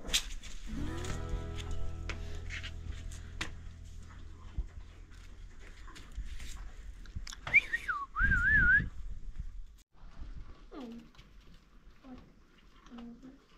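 A calf gives a few short, low moos near the end, after a shrill wavering call, over faint barn background noise.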